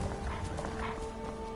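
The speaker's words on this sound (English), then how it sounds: "I hear wolves again." A wolf in the video game Skyrim yips and barks faintly amid background game sounds, with scuffling footsteps mixed in.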